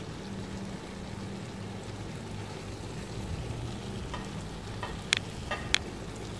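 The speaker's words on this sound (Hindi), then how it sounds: "यहाँ पे 2 से 3 मिनट जो है चिकन को ग्रेवी के साथ भून लेंगे" Chicken sizzles as it fries in butter chicken gravy in a pan, a steady, even crackle, with a few sharp spatula scrapes and clicks near the end.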